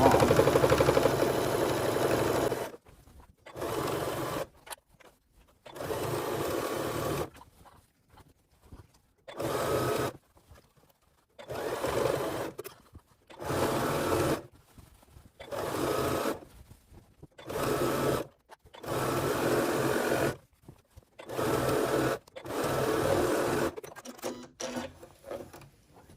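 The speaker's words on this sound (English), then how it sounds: "I'm just going to stitch this opening closed" A sewing machine stitches the opening of a fabric storage basket lining closed in repeated bursts of a few seconds each, whirring steadily and separated by short quiet pauses.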